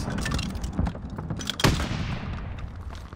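Gunfire in a Call of Duty: Vanguard multiplayer match on Champion Hill, a few sharp shots and a heavier thudding blast over a steady game background, moderately loud.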